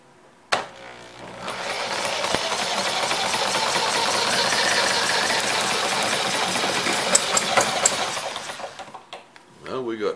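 A Webster model engine with a Chuck Fellows carburetor starts up and runs, a loud buzzing mechanical drone that builds after a sharp start, holds steady for several seconds, then sputters and cuts out.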